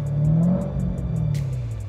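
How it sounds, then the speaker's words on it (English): A Corvette Z06 engine running loudly nearby, a deep steady rumble with a brief rising rev near the start, then settling into a throbbing idle with a short hiss partway through. "let me just show you how loud the car actually is"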